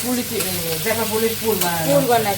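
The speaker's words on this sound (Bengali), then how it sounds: "আচ্ছা হালকা হালকা ভেজে নিচ্ছে মশলা দিয়ে দিয়ে" An onion, garlic and spice filling for dried-fish pitha frying in a pan: a constant close sizzle with stirring scrapes, and a faint tonal hum that may be a voice in the background.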